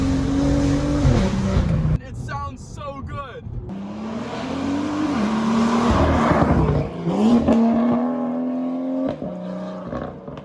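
A BMW M2 with a deep inline-six engine, likely the N55, revs repeatedly. Rising pulls and sharp blips separated by brief pauses stay close and loud, with some speech over parts of it.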